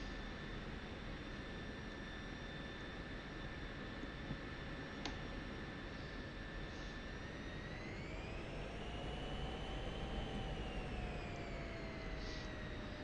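An F-16C jet engine in the DCS flight game drones steadily and loudly, with a sustained whine that rises in pitch partway through and a single sharp click.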